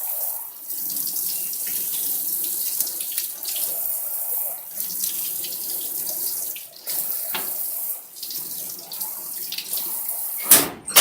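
Tap water runs steadily into a surgical scrub sink as hands and arms are rinsed toward the elbows, a continuous close splashing with brief breaks where the limbs move through the stream, ending in a sharp knock.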